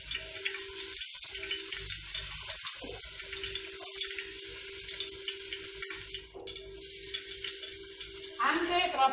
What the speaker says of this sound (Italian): Le lavo subito sotto l'acqua fresca, corrente, proprio un attimo